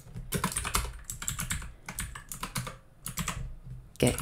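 Fast typing on a computer keyboard while writing code, a steady close patter of key clicks with a few brief pauses and a louder final keystroke.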